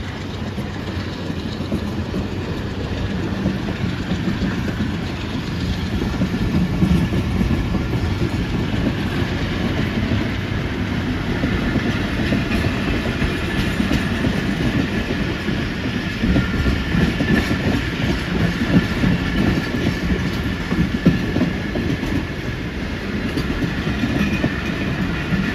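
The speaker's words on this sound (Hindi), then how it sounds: "ये थी आज की हमारी 9 अप अल्लामा इकबाल एक्सप्रेस EG 30 60-23 स्पीड पर था।" An Allama Iqbal Express passenger train, hauled by an EG 30 locomotive, runs at speed with a steady, loud rumble and a rhythmic clickety-clack of wheels over rail joints, continuing without voices throughout.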